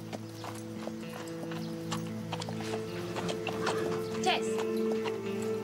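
A horse's hooves clip-clop in a steady uneven rhythm at moderate distance, under a low steady hum, while a voice speaks briefly.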